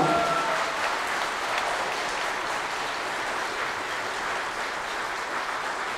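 Sustained audience applause for a singer at a gala concert of a national folk singing contest in Plachkovtsi, a dense steady wash of many hands clapping, moderately loud and continuous for several seconds with no voices.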